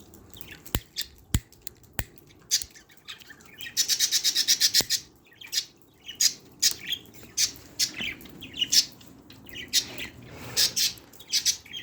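Budgerigars chirp outdoors in cold, snowy winter weather, sharp close tweets and short squawks in irregular bursts, with a rapid chattering trill partway through and a few sharp clicks early on.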